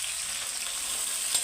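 Half-fried eggplant sizzles in hot oil in a pan while sukto is cooked, a bright steady crackle with a light stir near the end and no talking.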